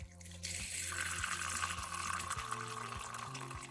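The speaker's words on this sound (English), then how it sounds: "He needs more water in his bowl, obviously." Water poured into a tarantula's water bowl during rehousing after a bad moult, a steady close trickle and splash running continuously with a low background hum.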